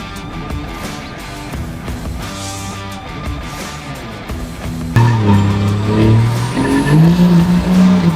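A diesel truck with a brand-new transmission accelerates at half throttle, its engine note building from a rumble into a louder, rising roar partway through, heard up close with no talking.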